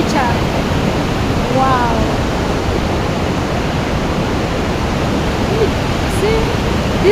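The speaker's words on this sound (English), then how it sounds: "I know you can't hear me well because of the noise from the fall." Large waterfall in a Kenyan forest producing a loud, constant broadband roar that fills the whole stretch, with a few faint voices and a brief exclamation underneath.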